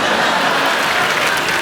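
Studio audience applause on a comedy talk show, a dense, loud wash of clapping that fills the whole moment without a break.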